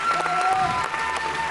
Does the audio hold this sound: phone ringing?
no